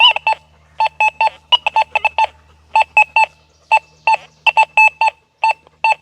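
An XP Deus 2 metal detector set to reactivity 1.5 sounds a dime hidden among nails: repeated bursts of short, high electronic beeps in quick clusters, loud and close, with brief gaps of silence between passes.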